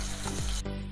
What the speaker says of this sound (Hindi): इसको गोल्डन ब्राउन होने तक हमें भून लेंगे